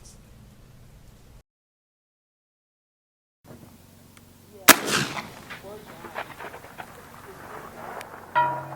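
A single sharp gunshot from a Smith & Wesson Model 24-3 Lew Horton Combat Special revolver cracks loudly outdoors after a brief silence, followed by a ringing decay and faint background noise.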